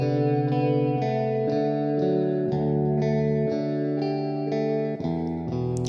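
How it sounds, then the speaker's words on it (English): A synth or instrument line of sustained, stepping notes runs through a Kajita multi tap delay plugin by IceGear, its early reflections thickening each tone into a dense, shimmering wash that plays continuously and loud without any voice. "Let's bring up this amount of early reflections in the mix and see how much that adds."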